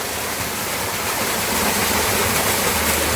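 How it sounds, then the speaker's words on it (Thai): A small jungle waterfall in the hills pours into a single point, giving a steady, dense rush of falling water that stays loud and even throughout with no voices. "น้ำตกสวยดีนะครับ ดูดิ"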